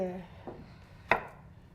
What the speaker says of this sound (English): so you just slice it